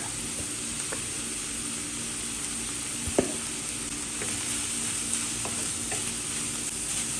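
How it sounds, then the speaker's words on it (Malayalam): Tomato, capsicum and grated coconut sauté in a pan with a steady, close sizzle, broken by a few scraping stirs and one sharp utensil knock near the middle. "ഒരു മിനിറ്റ് നമുക്കിതെല്ലാം കൂടെ ഒന്ന് വഴട്ടാം"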